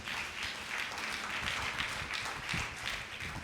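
Congregation applause during a Sunday church service, a steady wash of many hands clapping, moderately faint and continuous throughout.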